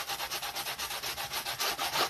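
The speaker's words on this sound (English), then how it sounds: "So this is my 60 grit sanding block." A 60 grit sanding block rubs rapidly back and forth along wooden ridges, making a steady rhythmic rasping of about eight quick strokes per second, close and unaccompanied by speech.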